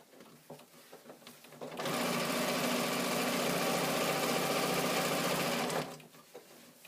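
A sewing machine runs in one continuous stretch of about four seconds, stitching channels through fabric with a steady, fast mechanical whir. Quieter handling noises come before and after.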